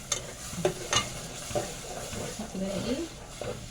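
Food is stirred in a frying pan, with a few sharp spoon scrapes and knocks against the pan over a soft sizzle, close by and fairly quiet.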